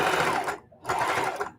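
A home sewing machine stitches in the ditch through the layers of a scrappy quilted table runner, giving a steady, close whirring hum that stops briefly midway and then starts up again.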